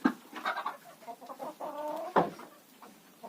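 Chickens shut inside a coop cluck and call close by, with several separate squawks and a drawn-out tonal crow-like note in the middle, over otherwise quiet surroundings.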